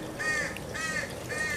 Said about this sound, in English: We have a little crow convention going on.